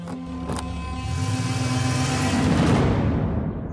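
A car engine hums and builds as the vehicle pulls away, rising gradually in loudness with a steady road roar and no voices.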